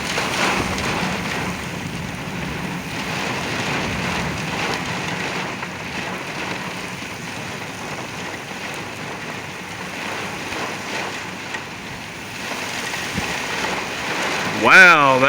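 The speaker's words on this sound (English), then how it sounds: "Wow, that was a big gust." Strong wind gusts roar steadily with heavy rain during a derecho-type storm in Oklahoma, a continuous broadband rush that swells near the end.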